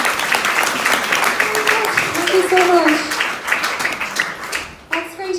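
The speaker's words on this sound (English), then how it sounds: "So big round of applause for Aideen." Comedy audience applauding a comedian, a full burst of crowd clapping that fades toward the end while a voice speaks briefly over it.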